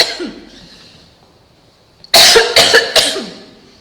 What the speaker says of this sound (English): It always gets me to cough.